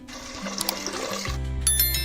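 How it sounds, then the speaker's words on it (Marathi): Water pours steadily into a metal pressure cooker holding lentils, a continuous splashing fill with the pitch rising as it fills, close by. "मी आता या डाळीला साधारण दोन ग्लास भरून पाणी घालणार आहे"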